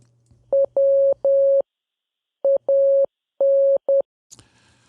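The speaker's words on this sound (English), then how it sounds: "it's Morse code and it's really annoying to listen to" Loud, steady-pitched electronic beeps in short and long bursts, grouped with pauses between them, ending with a brief rustle.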